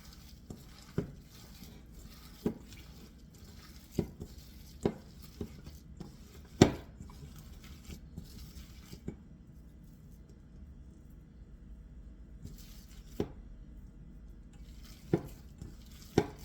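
Salt cod fritter batter being mixed in a bowl, sparse sharp knocks and taps of the utensil against the bowl at irregular intervals over quiet background hum.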